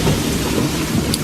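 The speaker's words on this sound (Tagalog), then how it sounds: "Masyado nang malakas ang ulan." Heavy rain pours down steadily as a dense, constant wash of noise, with a low rumble of thunder rolling underneath throughout.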